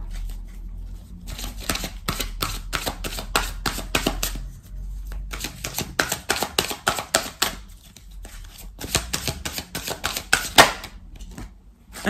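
Oracle cards are shuffled by hand before three are drawn, making rapid, close riffling clicks in uneven runs with short pauses and a few sharper snaps.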